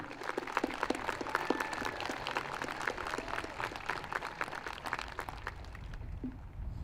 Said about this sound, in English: another round of applause for the class of 2020